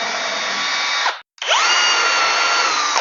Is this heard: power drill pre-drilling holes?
yes